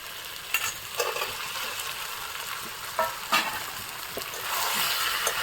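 Green jackfruit and pre-fried potatoes stir-fry in a pan for a Bengali jackfruit-prawn dish, a steady sizzle and hiss broken by scraping spatula strokes and clinks, with no talking.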